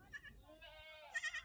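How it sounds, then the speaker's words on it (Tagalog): Goats on a provincial farm bleat in short, wavering cries, one near and clear and others overlapping, with a person talking quietly in the background. "ang daming kambing dito"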